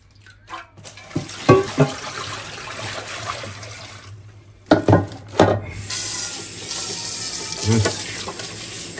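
Tap water splashes in bursts over dried octopus being rinsed in a kitchen sink, with short gushes and pauses and a quieter trickle running between them.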